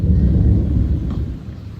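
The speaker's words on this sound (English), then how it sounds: "lightning came and thunder and a little rain" Thunder from a storm rumbles loud and continuous over dark rain clouds on a scooter route in Laos, a deep, heavy roll that slowly fades over a couple of seconds.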